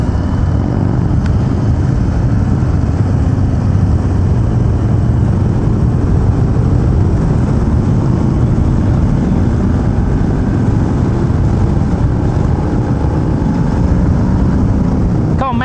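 A 2019 Harley-Davidson Sport Glide with its stock exhaust pipe on a test ride, heard as a continuous rumbling engine drone mixed with road and wind noise that stays level throughout.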